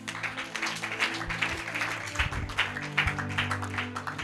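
A church congregation applauds and cheers in praise, a dense run of clapping with voices mixed in, steady and fairly close for a few seconds.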